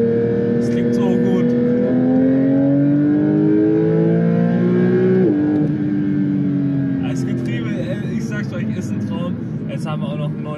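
Porsche 911 GT3 engine revs hard while overtaking on the road, its tone climbing steadily and then dropping sharply at a gear change before rising again. The sound is loud and close, and people talk over it.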